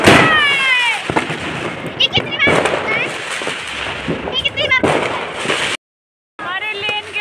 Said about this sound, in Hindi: इधर खतरनाक पटाखे फूट रहे भाई